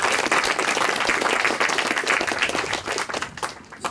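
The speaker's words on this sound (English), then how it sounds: "So let's give a great round of applause for our MC." A military audience gives a round of applause for the MC, loud dense clapping that holds steady and then thins and tapers off toward the end.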